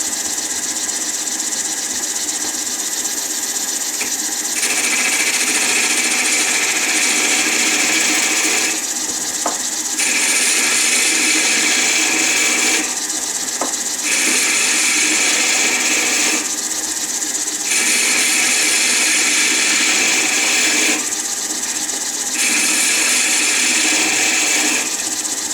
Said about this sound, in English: I'm going to turn the lathe on at a little bit of a slower speed and cut this tip down to size.